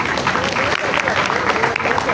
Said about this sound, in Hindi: इनके तालियां